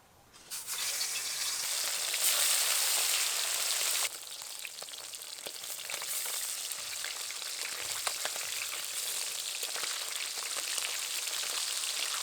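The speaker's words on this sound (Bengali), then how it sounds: "এখন আমি এই মাছগুলো প্রথমে ভেজে নেব।" Small naina fish fry in hot oil, bursting into a loud crackling sizzle that eases slightly after a few seconds and then keeps bubbling steadily.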